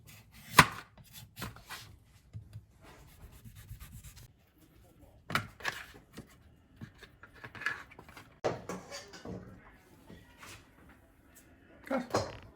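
A knife chopping butternut squash on a board in a home kitchen, with sharp, separate thuds at irregular intervals and quiet gaps and rustling between cuts.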